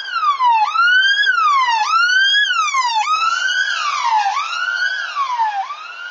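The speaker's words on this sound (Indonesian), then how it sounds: "suara sirine ambulan yang teman-teman dengar dari kejauhan itu sebenarnya berbeda dengan suara ambulan ketika mendekat" A wailing emergency siren rises and falls in repeated sweeps, loud and steady throughout, with no other sounds or voices around it.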